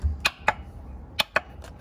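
A 1995 Sea-Doo XP jet ski with a 717 engine has an electrical fault, and its starter gives five sharp, separate thumps at uneven intervals. Each is close and brief, with quiet gaps between them.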